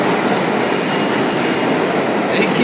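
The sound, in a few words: subway train at station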